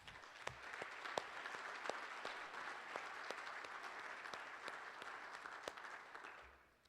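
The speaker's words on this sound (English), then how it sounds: "Please give yourselves a round of applause." An audience at a fatherhood luncheon in Indianapolis applauds itself, a steady wash of many hands with a few sharp nearby claps, fading out at the end.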